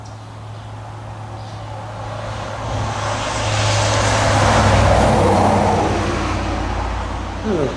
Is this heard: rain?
no